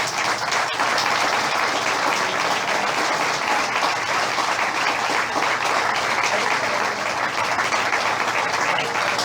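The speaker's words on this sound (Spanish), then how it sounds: "Un aplauso para las mujeres." A church audience at a sermon gives sustained, dense applause, a steady roar of many hands clapping at even loudness for several seconds.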